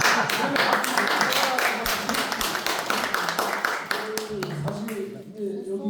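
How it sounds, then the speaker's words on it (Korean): An audience at a public hearing in Chungbuk on records of unnamed independence activists gives a brisk round of clapping for about four seconds. It fades out as a voice starts speaking. "박수 좀 쳐주셔도 괜찮을 것"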